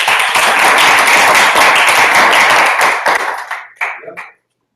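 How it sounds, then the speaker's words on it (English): A Toastmasters club audience gives a speaker a round of applause, a loud, close burst of many hands clapping that tapers into a few scattered claps before cutting to silence. "Let's give him a strong round of applause."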